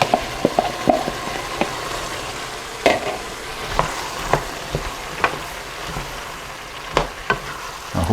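Four plum tomatoes go into a pot of simmering Manhattan clam chowder, sending up a steady sizzle broken by irregular clunks and knocks as they drop in and get stirred.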